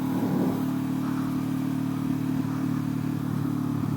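Motorcycle cruising past a winery, its engine a steady close droning hum throughout with wind rush and no clear change in pace.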